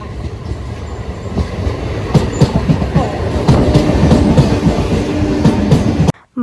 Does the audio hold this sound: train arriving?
yes